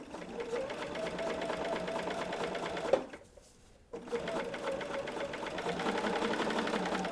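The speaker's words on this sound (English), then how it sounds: "We're going to give her a lock and stitch and sew a beautiful straight line." A sewing machine stitching a straight line on a quilt block, buzzing with a fast, even close-up rattle that stops for about a second before starting up again.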